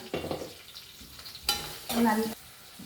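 Small shallots frying in an oil pan for chicken curry, crackling and sizzling in short bursts as a spoon stirs and scrapes them, loud and close, with no talking.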